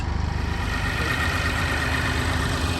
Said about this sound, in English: grinder warming up